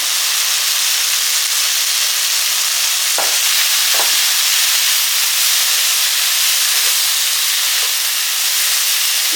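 Onion and grated coconut frying in a pan for a Tamil home-style kuzhambu, a steady loud sizzle and hiss throughout with a few brief stirring scrapes, no talk.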